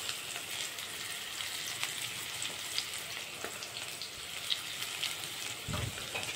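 Onions and a little salt fry in oil in a pan, giving a steady, close sizzle with faint crackles and no talk.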